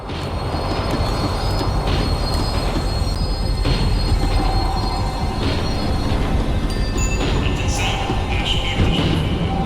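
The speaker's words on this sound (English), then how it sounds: "The tram was slowing down, and I'd only just gotten on board." A tram in the video game Max Payne 3 rumbles along while slowing down, with screeching wheel squeals and clanking, a continuous loud mechanical roar throughout.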